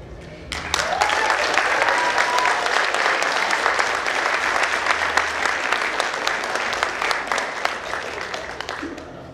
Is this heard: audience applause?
yes